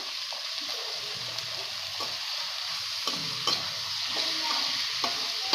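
Onion and capsicum sauté in a pan with rock salt and turmeric for Bombay sambar, giving a steady close sizzle broken by regular spatula scrapes and stirring knocks, with no voices.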